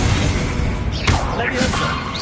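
In Hogwarts Legacy, the Incendio fire spell is cast in a loud whooshing burst with a sharp crackling flare, over dense continuous game noise.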